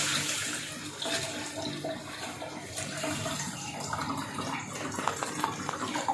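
Water pours into a falsa juice mixture with black salt, a steady splashing stream running for several seconds at moderate, fairly close level.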